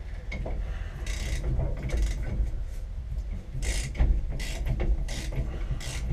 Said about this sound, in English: What I'm going to do is break this nut free and try and pull the steering wheel off.